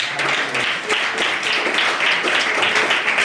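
A church congregation claps and applauds together, a dense, steady wash of many hands filling the room throughout, loud and continuous with no pauses.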